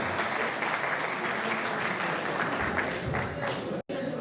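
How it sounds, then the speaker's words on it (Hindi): Sustained applause from a large audience at an Urdu poetry recital, steady and loud throughout, with a brief cut near the end. "भरपूर तालियों में इस्तकबाल करें कोमल जुइया।"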